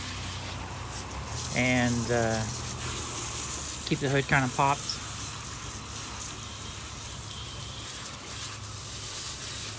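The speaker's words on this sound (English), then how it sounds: "we're just trying to wash off all that body shop dust that was underneath here" Water sprays and rinses the engine bay of a 2005 GMC Sierra, a continuous hissing gush close by, while someone talks over it with short pauses.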